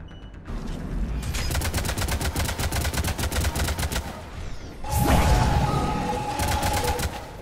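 Rapid, loud bursts of automatic gunfire are aimed at a Turian escape pod in Mass Effect 3. The firing runs steadily for several seconds, then a heavy impact or explosion hits, and more shots follow.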